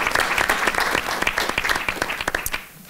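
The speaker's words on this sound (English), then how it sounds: "of applause" A round of applause from the audience at an annual membership meeting, crisp individual claps close by in a lively burst that thins out and fades at the end.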